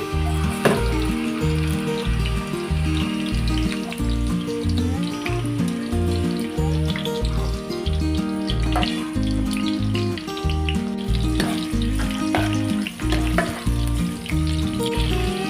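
Sliced onions dropped into hot oil for a Muslim-style mutton kofta curry, sizzling and crackling loudly and continuously up close, with occasional stirring clatter and a steady rhythmic thumping underneath throughout.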